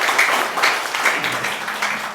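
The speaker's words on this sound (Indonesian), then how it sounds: "Tepuk tangan dulu untuk kami." A church congregation applauds during a synod chairman's address, a dense, continuous wash of many hands clapping at once, fairly loud and sustained with no voices standing out.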